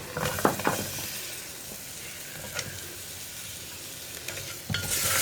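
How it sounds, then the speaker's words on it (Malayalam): Spice powders cooking with shallots and onions in a pressure cooker for kadala curry, a quiet steady sizzle broken by a few sharp spoon scrapes against the pan. "ഇതെല്ലാം ചേർത്ത് ഈ പൊടികളൊന്ന് കുക്കായി വരുന്നത് വരെ ഒന്ന് ഇളക്കി കൊടുക്കുക"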